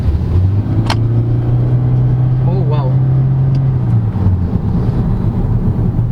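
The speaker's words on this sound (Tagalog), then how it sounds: "Both the engine and electric motor doing its thing, so I'll just floor it" A 2022 Toyota Corolla Altis Hybrid accelerating at full throttle, engine and electric motor together, with a steady rising drone heard from inside the cabin as a voice reacts briefly over it.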